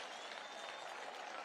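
Crowd applause at a political rally at a university in Meru County, Kenya, a dense, even wash of clapping from many hands, fairly faint and distant.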